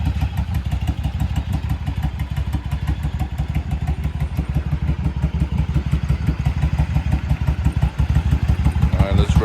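A Yamaha V-Star 1100 Custom fitted with Cobra slip-on mufflers idles cold, a loud, steady, deep lumpy V-twin pulse close to the microphone with no break throughout.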